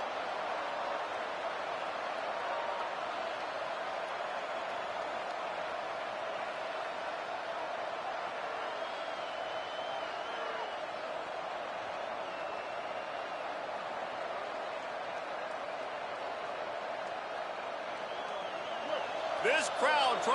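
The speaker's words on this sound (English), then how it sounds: "This crowd trying to show them what it's going to be like all day in this house." Steady stadium crowd roar fills a college football game during an Aggies timeout, a dense, even wash of voices from all around, with a brief sharper burst near the end.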